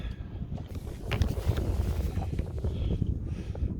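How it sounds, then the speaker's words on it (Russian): Wind rises over the Volga river during a fishing trip, blustering against the microphone in gusty, uneven bursts close to a small boat on the water. "Вот, поднялся ветер."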